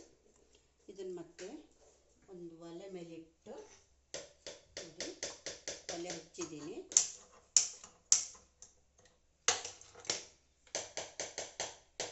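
Knife chopping ondelaga (Indian pennywort) leaves on a board for tambuli, a run of crisp rapid taps in quick bursts, with someone talking between and over the chopping.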